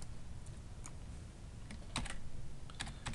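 Typing on a computer keyboard while entering a name in an Excel spreadsheet: scattered, uneven keystrokes that come close and clear, with a denser burst of clicks partway through over steady room noise and no talk.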